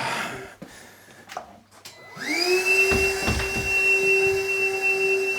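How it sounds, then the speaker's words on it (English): A vacuum cleaner hoovers in a house conservatory, starting after a few knocks and clicks, then running as a steady, loud whine with a droning motor hum close by. "wants to hoover up"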